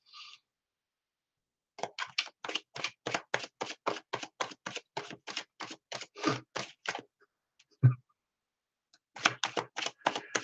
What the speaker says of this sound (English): Your cards are now shuffled, Ashley.